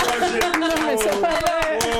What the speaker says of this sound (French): Mais non, on va applaudir.